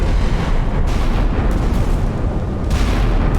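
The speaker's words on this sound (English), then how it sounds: "Sovereign down to 16-inch gunfire." Sixteen-inch naval guns of Iowa-class battleships fire in the naval combat game Sea Power, a dense continuous roar of heavy booms and rumbling with no pauses.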